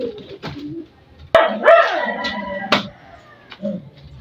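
Pigeons coo in soft, low bursts amid fluttering and brief sharp knocks on a house roof, moderately close, with a few scattered pauses between calls.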